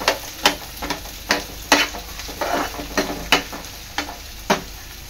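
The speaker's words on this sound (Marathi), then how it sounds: "कांदा चांगला लाल होईपर्यंत शिजवून घ्यायचा आहे।" Finely chopped onion sizzles in a hot pan while a spoon stirs it, sharp scraping knocks landing about once every half second over a soft, constant frying hiss.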